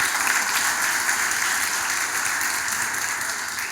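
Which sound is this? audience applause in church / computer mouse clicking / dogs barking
audience applause in church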